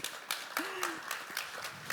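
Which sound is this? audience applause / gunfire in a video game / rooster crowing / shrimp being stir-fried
audience applause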